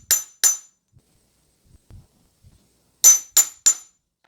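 Silver is struck with dapping punches in a dapping block: two sharp metallic hammer blows, a long pause, then three more quick ringing taps, close and clear with no talking.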